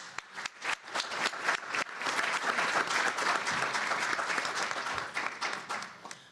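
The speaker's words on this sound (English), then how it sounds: "That is worth a round of applause." Audience applause at a legislative conference, a sustained wash of many hands clapping that swells, holds steady for several seconds, then tapers off, with no voices over it.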